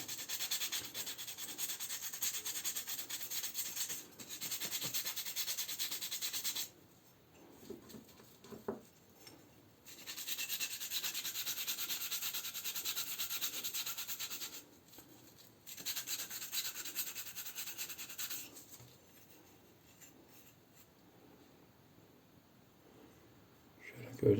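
Steady rubbing and scraping of fine sandpaper on blackened metal stove burner parts in long strokes, pausing briefly now and then, close and fairly quiet.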